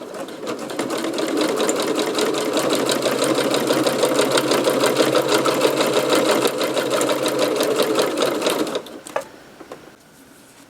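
A sewing machine runs a steady fast stitch for several seconds, close and loud, then stops with a few clicks as the needle settles.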